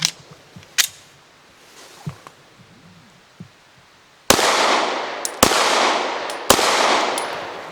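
S&W M&P Compact 2.0 pistol firing Hornady American Gunner 115-grain hollow points, three sharp, loud shots about a second apart after a stretch of quiet handling clicks.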